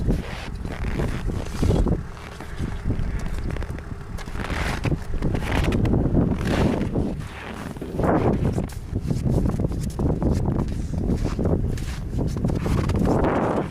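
Strong wind gusts roar and buffet the microphone in repeated surges at a frozen fishing spot in Yakutia, loud and rough throughout with no one speaking.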